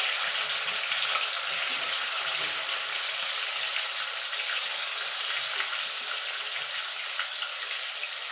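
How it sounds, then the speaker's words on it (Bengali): Chicken pieces fry in a pan for lemon chilli chicken, a steady close sizzle and crackle with occasional stirring, continuing alone for several seconds. "এবার এটাকে মিনিট দুয়েক একটুখানি ভাজা ভাজা করে নেব।"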